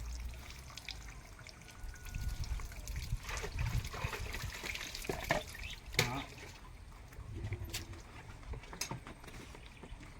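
Water from a hand pump trickles and splashes steadily nearby, with a few sharp knocks and clatters breaking through the wet, gurgling flow.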